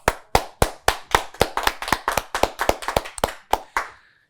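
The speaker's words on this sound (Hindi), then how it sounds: "तालियां!" Clapping on a studio tech show celebrating a new shopping channel launch comes as about sixteen sharp, close, evenly spaced claps in a brisk rhythm that stops abruptly, with no talk over it.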